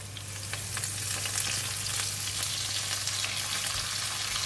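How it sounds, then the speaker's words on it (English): Korean chili paste frying in a pan for a tofu stir fry, giving a steady, close sizzle with a low hum running underneath throughout. "I'm going to add in a bit of water."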